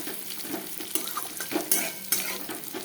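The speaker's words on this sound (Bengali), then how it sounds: "আলু পটলটা আমার সুন্দর মোটামুটি ভাজা ভাজা হয়ে গেছে।" Potato and pointed gourd sizzle in a hot pan while a utensil stirs them, giving a constant fry hiss broken by several sharp scrapes and clinks against the pan.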